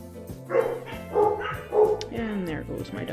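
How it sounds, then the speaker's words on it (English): A dog barks in a few loud bursts indoors, likely at the mail carrier, with a person talking over and between the barks. "And there goes my dog."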